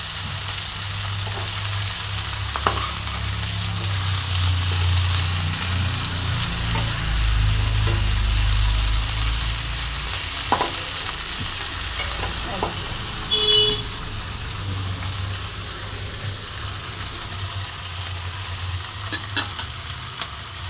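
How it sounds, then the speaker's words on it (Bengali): Cabbage bori fries in oil in a pan, a long steady sizzle with occasional stirring clicks and scrapes over a low, constant hum. "এবার এটা পাতিটা ছেড়ে যাচ্ছে, একটু সাবধানে ভাজতে হবে।"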